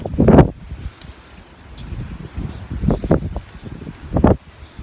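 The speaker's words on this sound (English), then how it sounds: "the wind's going to make this tricky" Outdoor wind gusts and rustles near a cyanotype drawing setup, with soft buffeting bursts against the microphone and a low, uneven rush between them.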